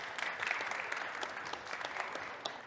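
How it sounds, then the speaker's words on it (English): An audience at a startup pitch showcase applauds as a founder takes the stage, a fairly quiet, even patter of many hands that trails off slightly toward the end. "Welcome. Round of applause."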